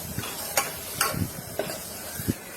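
Pav bhaji masala and chilli powder are stirred in a pan: about five soft spatula scrapes at an even, unhurried pace over a faint background hiss.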